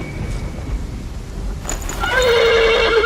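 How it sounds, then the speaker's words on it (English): A horse whinnies loudly and close in the medieval video game The Pillars of the Earth, a rising, shaky neigh arriving after a stretch of low ambient rumble. "The horse nearly woke the guard."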